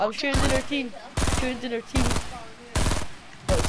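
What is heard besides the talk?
gunfire in the video game Fortnite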